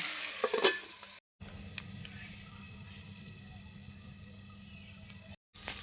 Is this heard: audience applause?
no